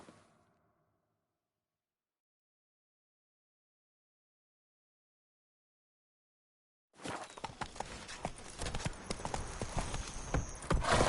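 A horse gallops in the video game The Witcher 3: after a short burst of sound and a long silence, rapid rhythmic hoofbeats start up and carry on loudly to the end.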